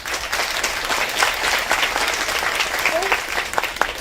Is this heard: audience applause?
yes